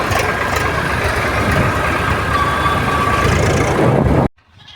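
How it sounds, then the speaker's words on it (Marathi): Swaraj tractor engine running steadily and fairly loud, a continuous low rumble with a faint whine, cutting off abruptly near the end. "तर येत आहे ट्रॅक्टर आपलं तिथून"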